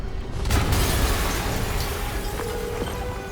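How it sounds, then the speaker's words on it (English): Explosion in Marvel's Spider-Man, a heavy boom that swells after a brief lead-in and rolls on as a dense, roaring rumble with faint debris clatter. "an explosion just... I saw it."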